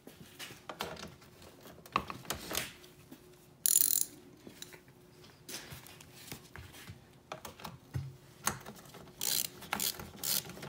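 A ratchet clicks in repeated bursts while snugging four bolts on a plastic Raptor-style grille on a 2015 Ford F150, the pawl chattering close up between brief pauses and handling noise, with no talking.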